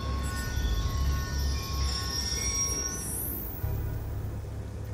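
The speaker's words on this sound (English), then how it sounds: "Ain't getting anything else with that train in the way." A train passes in Call of Duty Black Ops 2, a loud continuous rolling rumble with clattering wheels and a rising metallic squeal near the end, no talking.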